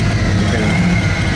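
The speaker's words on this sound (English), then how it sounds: "I'm working the gas because the gas pedal is in need of some adjustment" A 1936 Auburn 852 supercharged engine with a gas pedal needing adjustment revs steadily up close, a loud continuous mid-to-low engine drone with no speech over it.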